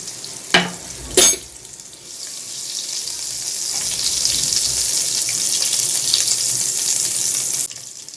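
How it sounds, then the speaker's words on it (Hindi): Butter and a little oil go into a kadai with two quick knocks, then a loud, steady sizzle builds and holds before cutting off near the end. "सबसे पहले बटर ऐड करेंगे कढ़ाई में, थोड़ा सा ऑयल"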